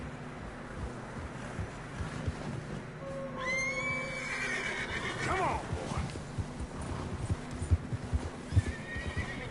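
A horse whinnies loudly with a long, wavering neigh over wind and hoof clops in fresh snow in the video game Red Dead Redemption 2, and someone speaks briefly nearby.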